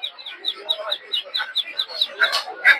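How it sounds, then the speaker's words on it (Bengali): Campbell desi ducks at a poultry market give a rapid, regular run of high, chirping calls, close by and repeating about every quarter second. "দেখতে পাচ্ছেন কাকার কাছে প্রচুর পরিমাণে দেশি হাঁস,"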